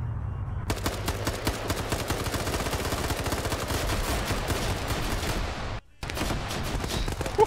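Sustained, dense automatic gunfire from the military video game Arma rattles loudly and almost without break, with one very short silence near the end.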